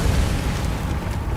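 A Confringo fire spell explodes in Hogwarts Legacy, a heavy, dense blast with a deep rumbling boom that stays loud and sustained for the full moment.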